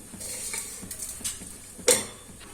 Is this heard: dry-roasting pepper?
yes